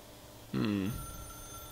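A telephone in the video game The Stanley Parable gives a single short, loud ring that stands out against a quiet background, followed by a lingering low hum.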